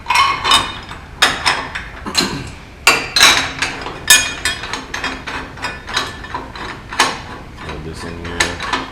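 Wrench ratcheting to tighten a threaded bolt on a tube chassis, a series of close, sharp metallic clicks in uneven bursts with light clanks between.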